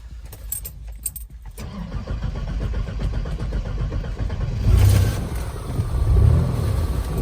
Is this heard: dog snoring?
no